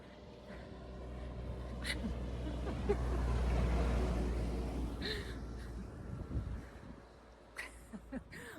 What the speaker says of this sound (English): there's a big tractor coming with hay.